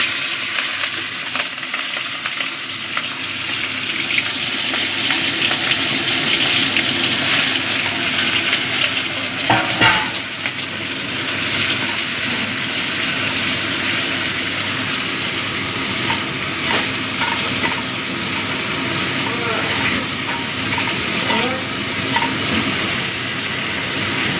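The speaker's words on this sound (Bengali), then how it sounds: "তেলটা ভালো মতো গরম হয়ে গেছে এবার আমি চিংড়ি মাছের মাথাগুলো ভেজে নেবো" Prawn heads fry in hot oil, giving a loud, continuous sizzling crackle with stirring scrapes, close up and with no talk.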